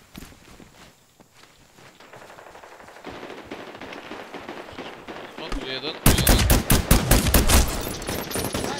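Medal of Honor Warfighter gunfire: quiet scattered shots and footsteps at first, building to loud rapid automatic bursts in the last few seconds, with a voice speaking during the quieter part.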